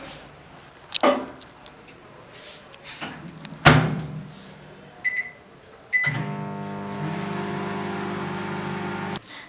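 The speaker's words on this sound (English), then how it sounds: "I will put this chicken for 10 minutes in the microwave." A microwave oven cooks chicken: a few door clunks and knocks come first, then the oven starts with a steady, loud electric hum that runs to the end.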